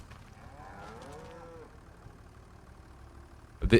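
Cattle moo in the farming video game Farming Simulator 25, with one drawn-out low call at moderate distance over a steady engine hum, followed by a sharp loud thump at the end.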